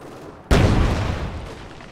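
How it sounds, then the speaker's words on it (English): Artillery strikes a player's own allied troops in the World War II strategy game Company of Heroes 2: one sudden heavy boom with a long, rumbling tail of debris and distant fire, with no talk over it. "He's doing attack ground and firing at his own guys or his ally."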